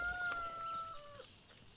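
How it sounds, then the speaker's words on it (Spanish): A rooster clucks and calls in the video game Force of Nature, two thin tonal cries heard fairly clearly over a low game backdrop, with no talking. "Y vamos a darle de comer al gallo."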